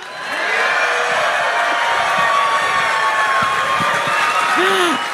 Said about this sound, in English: Can we get another cheer from the crowd?